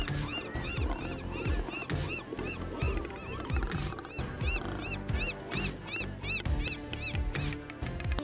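Wild ducks honk and call repeatedly as they take off in flight, a dense, busy flurry of overlapping calls at moderate distance.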